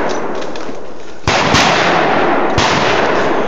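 A Smith & Wesson .45 pistol fired twice outdoors, two loud, sharp reports about a second apart, each followed by a lingering noisy tail, with no talking.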